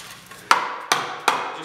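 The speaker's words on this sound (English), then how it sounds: "Don't need to get too rough with the hammer." A hammer taps wooden pieces of a small pet bed together, giving three distinct, evenly spaced knocks, close and fairly loud, with quiet pauses between them.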